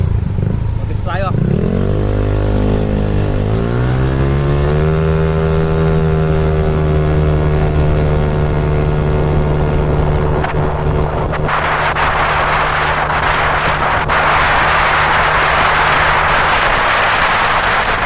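A Mio M3 scooter engine fitted with a big valve head revs up and holds a steady droning pitch on a road test ride, with heavy wind buffeting growing louder toward the end.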